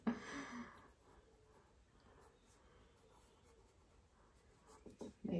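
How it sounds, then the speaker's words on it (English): A pencil draws the outline of an imaginary rock on paper for a badger drawing, with soft, faint scratchy strokes running quietly throughout and a couple of louder bumps at the start and end. "Now I'm going to draw an imaginary rock here for our badger to stand on."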